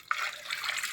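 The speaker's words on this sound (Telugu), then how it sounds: "కొంచెం వాటర్ పోసి" Water poured into a pressure cooker holding taro roots (colocasia) for a stew gives a short, faint splashing trickle that starts abruptly and runs steadily, close by, with no voices.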